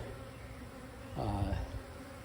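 A dense, steady buzz of many bees around a hive entrance close by, swelling louder for a moment in the middle before settling back to a constant hum.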